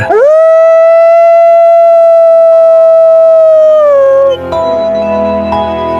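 A single long, loud dog howl holds one steady pitch for about four seconds, then drops off into quieter background sound.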